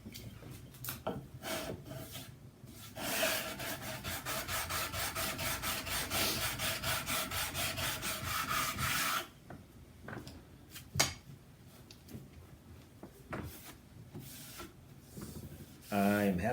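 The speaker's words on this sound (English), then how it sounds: "We are going to give this a quick sand" Sandpaper rubs back and forth on a wooden guitar neck during a build, making a loud, steady rasping stroke for several seconds, then scattered scrapes and handling knocks while a person talks.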